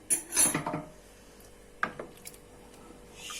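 Dried beans for a meat-and-bean stew are stirred in a pot with hot water and salt, giving a brief scraping clatter at the start, then a single sharp knock and faint scrapes in a quiet room.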